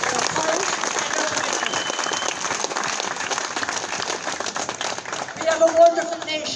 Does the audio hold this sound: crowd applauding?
yes